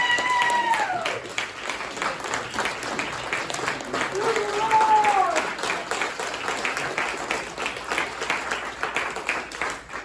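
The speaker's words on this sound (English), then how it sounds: "Everybody give a big round of applause for this man." A regional business meeting audience applauds a speaker, a sustained wash of clapping lasting several seconds with voices and a faint tone rising through it.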